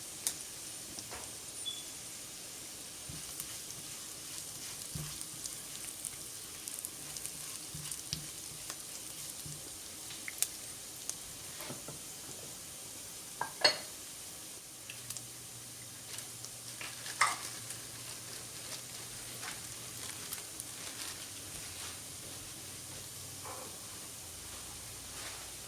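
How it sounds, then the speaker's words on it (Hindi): Onions lightly fried with about a spoon of cumin in a pan for keema, a faint, soft sizzle with occasional spatula scrapes and clicks, low and steady with no talking. "ये प्याज हमने माइल्ड फ्राई किए। इसके अंदर हमने ज़ीरा डाला,"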